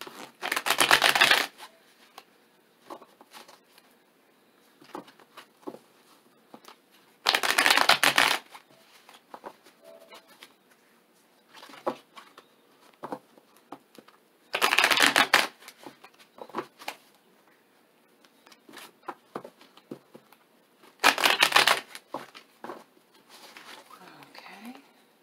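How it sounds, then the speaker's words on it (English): Tarot cards are shuffled in four short bursts of rapid riffling at regular intervals, with quiet talking and small handling noises between them. "we're going to go ahead and shuffle your energy into the cards just a little bit"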